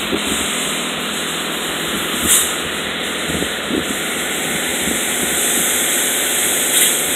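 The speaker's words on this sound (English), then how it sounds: "Now this is high pressure rinse." High-pressure rinse spraying a car in an automatic car wash, heard as a loud, steady hiss of water jets with occasional louder bursts over a low mechanical hum.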